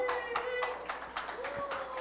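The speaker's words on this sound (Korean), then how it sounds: "여러분 격려 박수 한번 주시겠어요?" An audience at a music concert by an arts troupe on a special stage applauds in a brief patter of scattered claps. The claps are moderately near, with a sustained tone and a voice beneath them.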